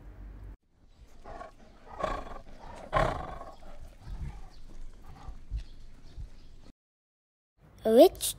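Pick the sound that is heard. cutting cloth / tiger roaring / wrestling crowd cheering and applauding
tiger roaring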